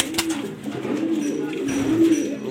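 Pigeons coo softly but close by in a loft where chicks are kept, a low, repeated burbling that rises and falls across the moment with a few faint rustles and no clear voices.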